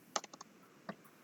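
A few quick keystrokes typing a router command on a computer keyboard: a fast burst of four clicks, a pause, then one more tap, close and fairly quiet.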